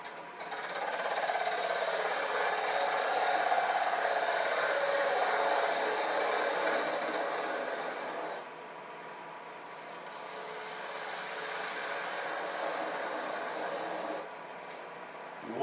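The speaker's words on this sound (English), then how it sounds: "We're just going to use the spindle gouge." A steady whirring wood lathe with a spindle gouge cutting wood, a continuous rough scraping hiss that eases midway, then picks up again.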